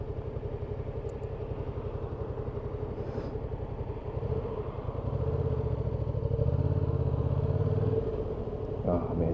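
A Yamaha XSR700 being ridden, its engine a continuous low drone that swells louder midway, with wind rumble and some faint talk.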